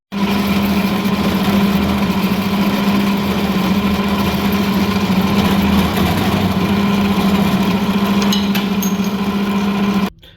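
A bandsaw cuts steel slugs held in a jig in a workshop, a loud steady mechanical drone with a constant hum that runs unbroken for about ten seconds and then stops abruptly.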